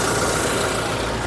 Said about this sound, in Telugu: ఇంజిన్ యొక్క నాయిస్ నెంబర్ 1గా అయితే ఉంది